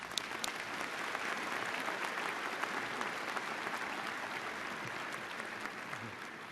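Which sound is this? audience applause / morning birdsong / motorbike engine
audience applause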